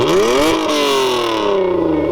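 A 1991 Honda NSX V6 with forged pistons and titanium rods revs hard, its pitch sweeping up sharply then falling and climbing again in a loud, continuous engine wail heard close with no talk.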